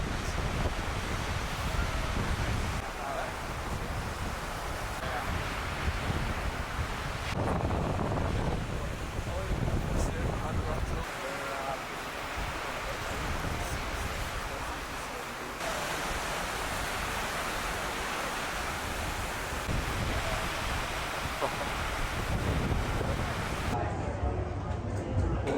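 Heavy ocean surf pounds at Margaret River during a surfing competition, a continuous roaring wash of breaking waves with wind buffeting the microphone.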